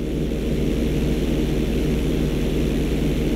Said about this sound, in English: roll your plane over to the opposite side and hold the position